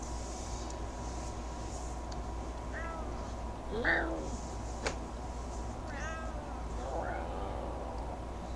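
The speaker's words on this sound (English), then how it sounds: "What is it, cat? You being angry kitten?" An angry cat meows several times, short wavering cries spaced a second or so apart, moderately close over a steady low hum of background noise.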